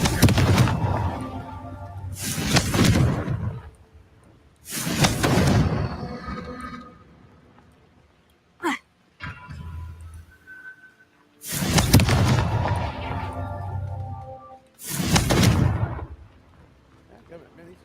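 Confringo fire-blast spells in the video game Hogwarts Legacy go off as four loud, roaring bursts about two to three seconds apart, with a brief sharp zap between the second and third blasts.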